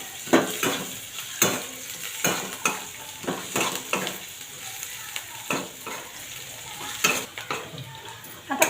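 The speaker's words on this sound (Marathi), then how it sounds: "कांदा थोडा भाजत आला की त्याच्यामध्ये मिरच्या टाकून घेऊया." Onion and green chillies fry in a pan, with a steady close sizzle broken by repeated sharp scrapes and clacks of a spatula stirring at an uneven rhythm, and no talk.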